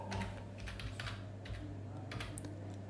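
A command typed on a computer keyboard: a quiet run of quick, irregular key clicks close by, with short pauses between bursts and no voices.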